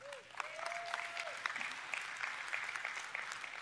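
A church congregation applauds steadily, a dense wash of many hands clapping at moderate distance, with a brief sustained tone near the start.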